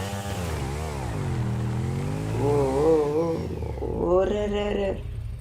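A motorcycle engine revs in GTA V, rising and falling in pitch as the throttle opens, with voices talking over part of it.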